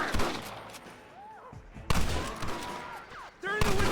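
Gunfire bursts in a Red Dead Redemption shootout, loud volleys at the start and again near the end with a quieter stretch between, as voices talk over the action.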